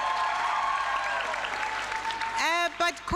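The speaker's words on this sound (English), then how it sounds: "Please give them a big hand of applause." Dense, loud applause fills a hall at a pharmacy school oath-taking ceremony, a steady wash of clapping that breaks off near the end as a voice begins speaking over the room.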